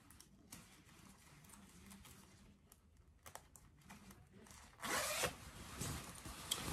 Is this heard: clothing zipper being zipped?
yes